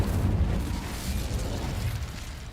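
A fire spell bursts in a Harry Potter video game, a loud rushing whoosh and rumble that rises at once and slowly fades over a couple of seconds.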